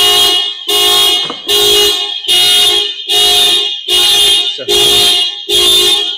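Alarm on a Toyota RAV4 blaring in loud, evenly spaced pulsing blasts, eight bursts with short gaps between, close and dominating, a brief spoken word at the start.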